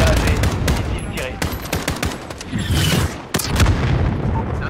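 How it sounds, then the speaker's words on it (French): A missile fired in Call of Duty Modern Warfare amid dense combat: a continuous barrage of loud gunfire bursts, booms and blasts, with close sharp impacts over a rumbling battle din and occasional voices. "Verrouillage et missile tiré."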